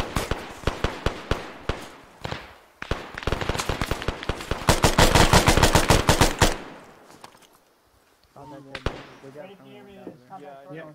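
Rapid bursts of gunfire ring out in an Arma military shooter battle, loud and close, with dense automatic volleys followed by a pause and then radio chatter.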